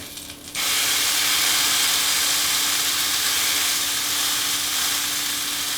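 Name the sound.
well-seasoned pork loin searing in a hot pan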